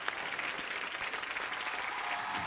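A studio audience at a comedy talk show claps in sustained, dense applause, steady and moderately loud throughout.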